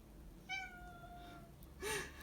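A pet cat meows on command indoors, two distinct meows, a longer drawn-out one followed by a shorter one, clear against a quiet room.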